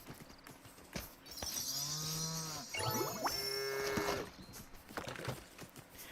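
Cows mooing in a farm video game, several drawn-out, fairly close moos that sometimes overlap, with soft clopping steps in the background and no voices.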